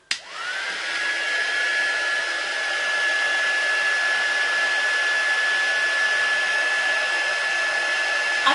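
A heat gun blows on the gift wrap of a Christmas hamper, giving one continuous loud, even whooshing hiss with a steady high whine from start to finish.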